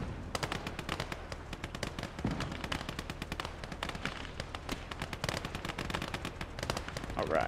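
T-30 tank firing during a Gates of Hell: Ostfront battle, heard as constant rapid gunfire and cracking shots through the whole stretch, dense and steady at moderate level, with a faint voice briefly underneath.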